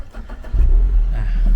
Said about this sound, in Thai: วิธีสตาร์ทแล้วก็เสียบกุญแจเข้าไป